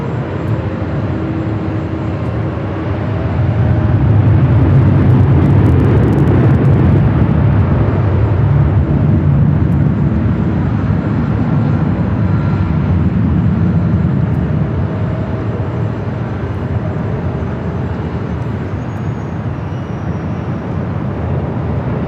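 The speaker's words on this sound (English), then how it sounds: "the flight's heading back to Tokyo Haneda" An airliner bound for Tokyo Haneda at Los Angeles LAX airport gives a steady, heavy jet roar that swells after a few seconds and holds for over twenty seconds. The roar is moderately distant, and nobody speaks.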